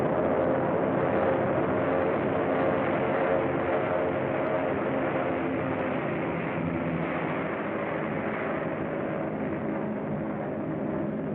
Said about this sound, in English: He made his getaway in that plane.